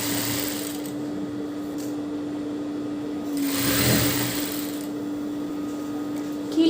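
A sewing machine stitches falls onto a silk saree, making a steady, continuous mechanical whir close by that swells briefly partway through, with no talking.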